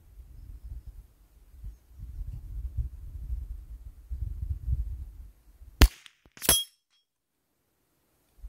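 Two sharp cracks from a Remington 597 rifle fired at a 200-yard target outdoors, one after the other about a second apart, following low wind rumble and handling noise.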